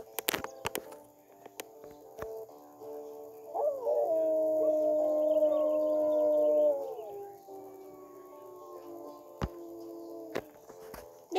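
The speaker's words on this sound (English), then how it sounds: "we can howl once more before" A long, wavering wolf howl in the game WolfQuest rises and holds for a few seconds, with a fainter answering howl, framed by scattered clicks and taps before and after.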